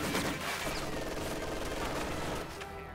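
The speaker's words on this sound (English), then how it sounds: "Bundle grenade tossed on that position." A bundle grenade goes off in a real-time strategy war game, a loud, dense blast and rumbling crackle that fills the whole moment before easing off near the end.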